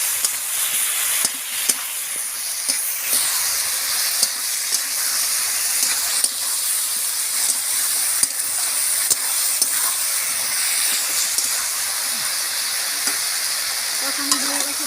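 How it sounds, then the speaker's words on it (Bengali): Already-fried potato and raw banana sauté in a hot pan with a constant close sizzle, broken by scattered clicks of stirring. "দেখুন এবারে আমি ভাজা আলু আর কাঁচকলাটা দিয়ে দেবো, দিয়ে আলাদা ভালো করে আমি কষিয়ে নিই"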